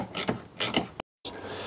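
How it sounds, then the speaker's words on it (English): A hand tap cuts threads into bolt holes for a Smart ForTwo tailgate hinge, making close, gritty ratcheting creaks in short turns, followed by a brief silence and then a softer scrape. "time to tap this side out"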